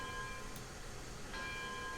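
A locomotive bell rings in the train game Railroads Online as a steady, fairly faint metallic tone held over a low rumble of rolling machinery.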